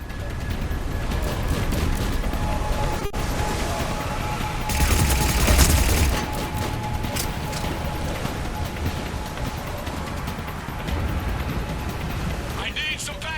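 Gunfire in the video game Mass Effect Legendary Edition comes in rapid bursts and scattered shots over a busy combat soundscape, with a louder fusillade midway and voices speaking through the action.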